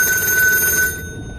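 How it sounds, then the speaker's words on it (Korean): Telephone bell ringing loudly and close for about a second, then cutting off, with a faint low background hum behind it. "전화벨이 울렸다."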